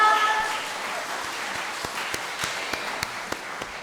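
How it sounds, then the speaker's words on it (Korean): Steady applause from a congregation during a church praise worship service, moderately loud and continuous, with sharper individual claps standing out near the end. "우리 하나님께 영광의 박수 올려드리겠습니다"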